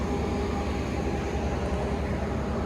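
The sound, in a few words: passing Argo Anggrek train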